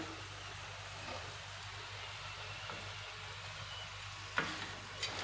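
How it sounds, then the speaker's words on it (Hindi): A paratha roll frying on low heat in a pan gives a soft, steady, faint sizzle throughout, broken only by a couple of small clicks near the end. "इसको हम हल्की आंच पे पकाएंगे, चूल्हा तेज नहीं रखेंगे ताकि ये जल भी ना जाए"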